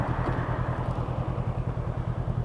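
Honda Rebel CMX500 motorcycle engine from 2020 running steadily, a deep rhythmic throb with an even pulsing beat, close and fairly loud, with no talk over it.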